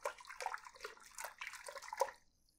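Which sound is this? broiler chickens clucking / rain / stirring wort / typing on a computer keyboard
stirring wort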